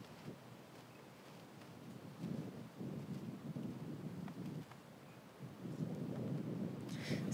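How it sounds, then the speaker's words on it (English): Steady wind buffets the microphone on an outdoor disc golf course during a women's pro tournament final round, a low continuous rumble that swells and eases, with no talking. "this is a challenging wind for putting"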